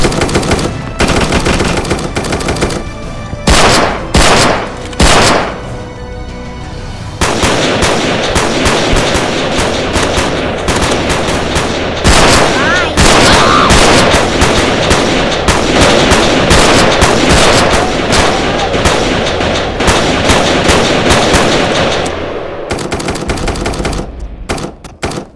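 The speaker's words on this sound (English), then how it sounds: "Okay, I'm gonna count to three, then I'm gonna start shooting." Rapid automatic gunfire in the Roblox game Ronin, loud and close, with bursts at first and then long sustained volleys with short pauses.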